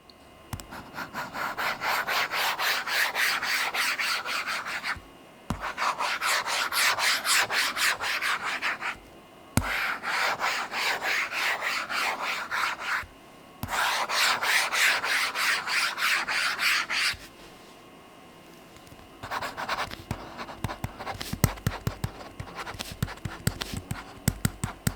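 A Lamy pen tip scratches steadily across a slippery eInk tablet screen in long continuous strokes, close and fairly loud, broken by a few short pauses between passages of writing.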